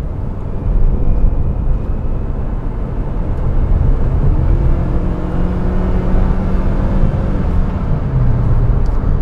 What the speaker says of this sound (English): it's not fast, but it's a nice, smooth 4-cylinder, even after all these years